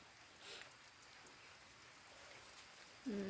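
Light drizzling rain falling outdoors under a dark, overcast sky, a soft steady hiss with no distinct drops, fairly faint, ending with a brief louder tonal sound.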